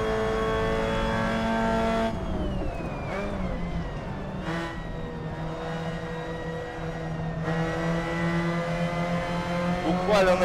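Mazda race car in Assetto Corsa online racing, a loud sustained engine whine that rises and dips through gear changes and corners, with brief tire noise and other cars close behind.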